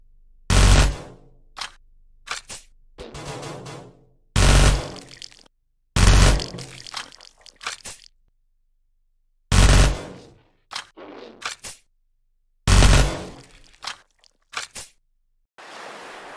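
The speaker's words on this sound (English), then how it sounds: "Every game needs a fuller auto weapon" Full-auto weapon fire from a Unity video game, loud sharp bursts in short repeated volleys separated by brief silences, with no voices.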